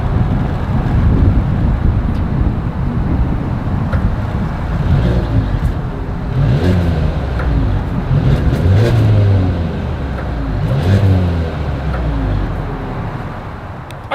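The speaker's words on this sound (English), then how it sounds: "As always, here is that exhaust clip." Exhaust note of a 2022 Mercedes-Benz GLA 250 SUV, a loud close engine drone with rising rev swells and blipping throttle, heavy low rumble and some wind buffeting across the whole stretch.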